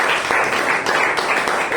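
A church congregation claps together during an evening worship service, a brief burst of continuous, fairly close applause with no talking over it.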